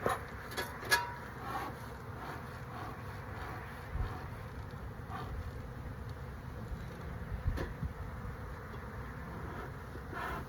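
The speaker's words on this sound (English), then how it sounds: "God, so many bees." A dense, steady hum of many bees around a growing hive drones softly and continuously, with occasional nearer buzzes passing close and faint outdoor background.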